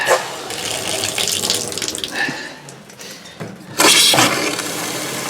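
Pink antifreeze runs from a Fleetwood Bounder motorhome's sink faucet, a steady nearby gush of water hissing into the basin, with a louder splashing surge near the end.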